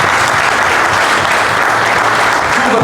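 A boxing event audience gives a dense, loud, sustained round of applause, with the crowd's clapping filling the space evenly and no break.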